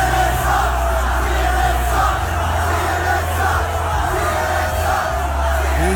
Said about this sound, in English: The crowd is all chanting, CNN sucks, CNN sucks, CNN sucks.